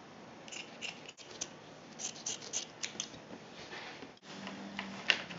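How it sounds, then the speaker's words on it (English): Scissors snip off extra fabric from a sewn piece, a series of close, crisp cuts with short gaps between them and no talking. "Now that you've sewed that down, you can cut off the extra material."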